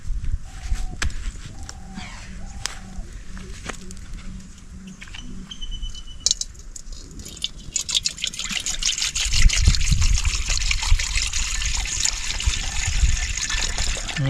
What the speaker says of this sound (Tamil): சட்டியை வச்சுட்டு நம்ம தண்ணி ஊற்றிக்கலாம்